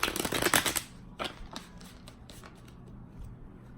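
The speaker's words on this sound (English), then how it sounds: "I'm just going to give it a few shuffles here to clarify." A tarot deck is shuffled close up, giving a burst of crisp riffling card flutters at the start, then a few quieter single snaps and slides that trail off into near silence.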